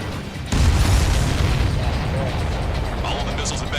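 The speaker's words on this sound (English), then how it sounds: "All of the missiles have been destroyed." In the flight combat game Ace Combat 7: Skies Unknown, missiles explode in a sudden loud blast that settles into a sustained rumbling roar with scattered crackles, dense and close.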